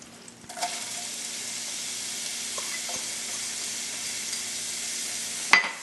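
Onion goes into melted oil and butter in a saucepan over medium heat and sets off a steady, close sizzle that holds evenly throughout, with a faint clink near the start and a sharp utensil knock near the end. No talking.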